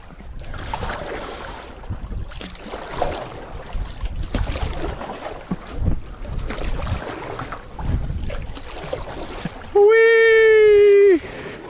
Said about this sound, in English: Oh, there are waves, bro.